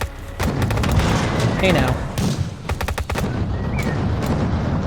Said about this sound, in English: I can sit here and shoot at that wall and it will come down